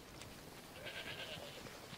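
Goats bleating in the video game Assassin's Creed Odyssey, a faint wavering bleat rising over a soft ambient game background, heard alone without talk.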